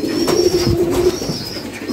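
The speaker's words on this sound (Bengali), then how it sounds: "সব কবুতর বাইরে আছে" Pigeons coo outside a home loft at midday, a few soft, low rolling coos heard close and clear with no talking.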